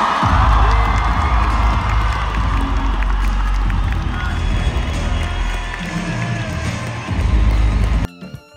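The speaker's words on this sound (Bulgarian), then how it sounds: "Вашите аплодисменти за Павел и Захар" A large audience at a reality-show finale cheers, whoops and applauds loudly and continuously for Pavel and Zahar, with the roar dipping slightly near the end before cutting off.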